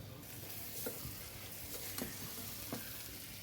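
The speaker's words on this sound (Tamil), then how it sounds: "இப்போ தக்காளி சேர்த்து மறுபடியும் நல்லா வதக்கி விடுங்க" Onions and tomato sauté in a pan for chicken dum biryani, giving a continuous close sizzle with several distinct stirring scrapes at a moderate level.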